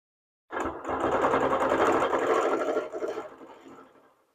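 Sewing machine stitching continuously for free motion ruler quilting on a quilt, a steady fast mechanical whir that starts abruptly, holds for about three seconds, then slows and trails off.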